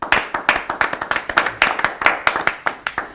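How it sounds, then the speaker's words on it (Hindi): A poetry-gathering audience claps in unison to welcome a guest, a close, loud run of sharp hand claps in a quick, even rhythm for about three seconds. "उनका जोरदार तालियों से आप स्वागत करें"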